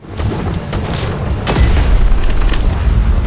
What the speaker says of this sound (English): you get the best kind of grenades, contact grenades